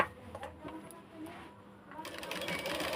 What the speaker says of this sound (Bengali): এইভাবে আমরা সেলাইটা দিয়ে নেব